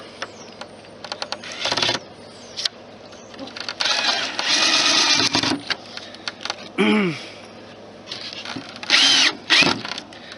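Power drill driving a 2.5-inch screw at an angle into a garden gate, whirring in several short bursts separated by pauses, close and fairly loud with no talk.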